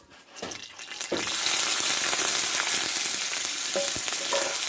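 Onion paste dropped into hot oil with chillies already reddened, for a potato and watermelon-rind dish: a quiet start, then a sudden hiss that swells into a steady close frying sizzle with a few light clinks, no voices.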